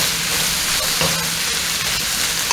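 Peppers and onions sauté in a hot pan for kung pao chicken, giving a steady, dense sizzle that holds close and even throughout with no voices.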